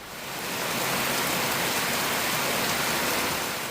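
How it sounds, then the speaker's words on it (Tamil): Heavy rain pours down steadily around Ambur and Vaniyambadi, a dense, loud hiss that swells up within the first half second and then holds even. "ஆம்பூர் மற்றும் வாணியம்பாடி சுற்றுவட்டார பகுதிகளில் சுமார் 1 மணி நேரத்திற்கு மேலாக கனமழை பெய்தது."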